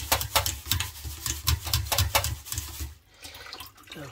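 Millet being rinsed in a pot of water, with rhythmic sloshing and pouring splashes close by, steady and fairly loud, then a brief quieter gurgle near the end.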